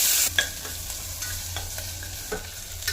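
Onion frying in a pan for broken wheat vegetable biryani, a continuous close sizzle broken by repeated spatula scrapes and taps as it is stirred.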